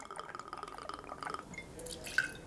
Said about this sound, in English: first thing going in there is going to be my bourbon. I'm using this lovely Buffalo Trace bourbon